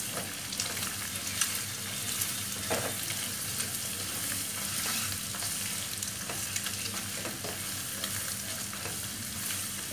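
Egg fried rice sizzling steadily in a hot pan with garam masala, stirred continuously with a spatula that scrapes and clatters at intervals, close and fairly loud with no talking.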